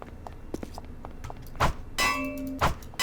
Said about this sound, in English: if it sounds like the shovel, that's because we also have the Postal 2 sound mod